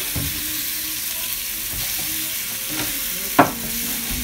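Chorizo sizzles in a pan for huevos con chorizo, a constant close hiss of frying fat broken by a few soft stirring scrapes and one sharper tap near the end, with no talking.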